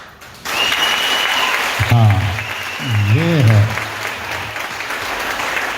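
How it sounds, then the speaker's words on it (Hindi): A church congregation applauding, a steady loud wash of many hands clapping throughout, with a voice speaking briefly over it partway through. "इनके लिए ताली बजाएं"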